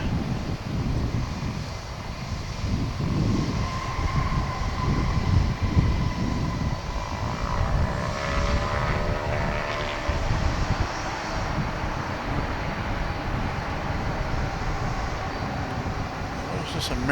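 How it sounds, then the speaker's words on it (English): A steady, loud roar of aircraft engines from an Alaska Airlines plane at Dallas/Fort Worth Airport at night, heard continuously with wind noise across the microphone and a faint rising jet whine in the middle. "There's that Alaska plane we were talking about."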